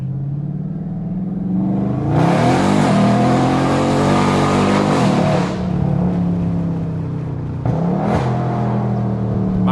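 A loud, tuned Dodge Scat Pack with a catless exhaust and 392 engine accelerates hard, its rising engine roar swelling into a sustained high-revving blast, briefly easing off and then surging again close up.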